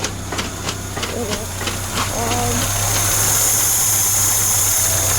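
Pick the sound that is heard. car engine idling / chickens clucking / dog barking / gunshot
car engine idling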